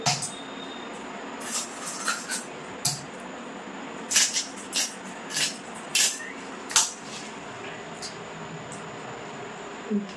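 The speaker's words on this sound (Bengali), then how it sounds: "এবার কিন্তু পিস পিস করে কেটে নেব।" A large American rui fish is cut into big pieces with a knife, a series of crisp, close chopping strikes at irregular intervals over a quiet kitchen background.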